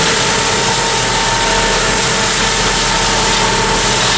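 A tractor-mounted Bomford hedge cutter trims a blackthorn hedge with a loud, steady engine and cutting drone that stays even and close throughout.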